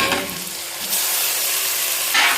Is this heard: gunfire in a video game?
no